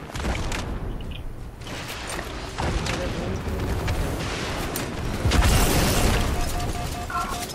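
A rocket launcher explosion in Halo multiplayer booms amid gunfire and game noise, with people talking over the action.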